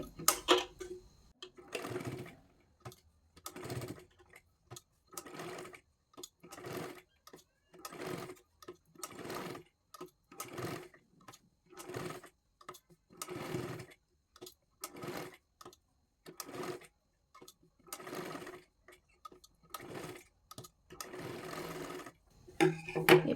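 A sewing machine stitching a katori blouse at a number five stitch setting runs in short, even bursts with brief pauses, about a dozen runs in a steady rhythm, fairly quiet and close.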